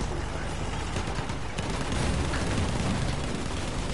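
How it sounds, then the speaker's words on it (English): A video game battle rages with a constant wash of gunfire and distant booms near a tank, a dense, rumbling barrage that never lets up, with faint voices underneath. "Getting shot at."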